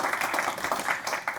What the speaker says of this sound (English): with a round of applause, please welcome to the stage Scott Snibbe